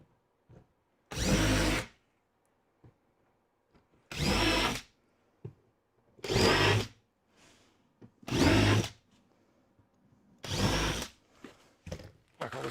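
Power drill driving screws into timber with an Amana Tools bit, five loud, close bursts of about a second each separated by short quiet gaps, with faint clicks and handling noise in between.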